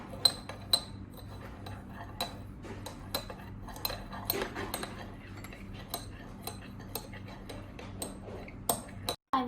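A spoon clinks and scrapes steadily against a glass while ice cream is stirred into cold coffee, with irregular ringing chinks and taps over a continuous low hum in a home kitchen.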